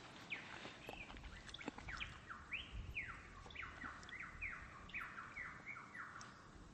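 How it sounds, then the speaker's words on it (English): Birds chirp in a quick series of bright, descending calls over a steady outdoor background hiss, moderately distant and fairly faint. "There's birds down there"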